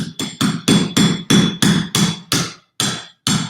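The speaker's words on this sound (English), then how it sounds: "You can take your chisel or your scratch awl, and we're just trying to remove matrix" Steady hammer blows drive a chisel or scratch awl to chip rock matrix away from a fossil, about ten sharp close strikes in an even rhythm, each ringing briefly before a short gap.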